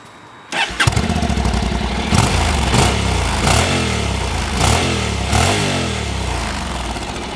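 A Honda NC700X motorcycle engine is started, then settles into a fast twin-cylinder idle. It is blipped into several short revs that rise and fall in regular bursts, loud and close, with no speech.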